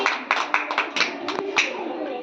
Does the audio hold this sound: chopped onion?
no